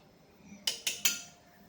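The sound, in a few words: mixing Maggi paste in a pot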